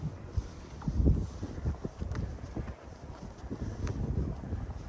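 Wind buffets a microphone during a winter walk beside a creek in Regina, a steady low rumble with gusty swells and faint crunchy steps underneath, no voices.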